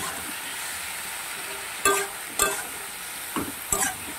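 Spice paste fries in a pan with a steady loud hiss, and a spatula scrapes and clatters against the metal three or four times.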